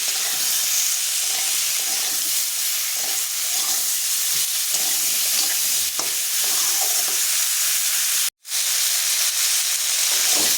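Prawns and green banana with turmeric and salt are stirred in a hot pan, a loud continuous sizzle and hiss with faint scraping, cut off by a brief silent gap near the end before resuming.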